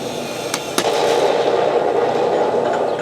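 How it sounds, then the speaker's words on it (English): A Tiger I model tank's toy machine gun, with LED flash and ball-bearing steel gearboxes, fires with a couple of sharp clicks, then a steady, buzzing rattle that runs on continuously at close range. "Machine gun with LED flash."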